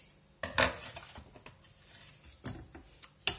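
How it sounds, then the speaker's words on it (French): Savory tuna pancake batter being stirred again in a bowl, with a few soft utensil taps and scrapes against the bowl spread over a few seconds on a quiet background, with no speech. "On remélange l'appareil."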